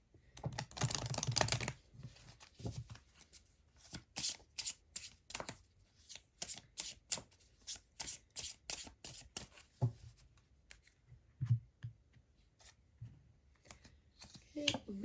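Shamanic healing oracle cards are shuffled by hand in a quiet room, a crisp burst of riffling followed by a string of short, soft card snaps and slides at an uneven rhythm.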